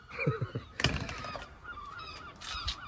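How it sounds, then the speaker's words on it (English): Seagulls call around a van parked in Minehead, with a few short harsh squawks followed by a louder cry and more gull calls in the background, fairly close over outdoor ambience. "Seagulls."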